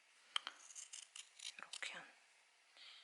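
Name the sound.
scissors cutting sewn fabric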